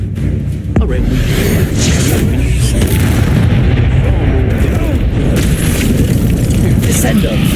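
A continuous, heavy explosive rumble from the Bombarda spell in the video game Hogwarts Legacy, loud and sustained, with voices talking over the blasts.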